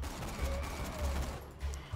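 Rapid bursts of automatic gunfire in Borderlands 2, fighting the Muckamuck chapter boss after its shield is stripped, with quick repeated shots in short clusters. The level is moderately quiet and sits under game ambience with no talk.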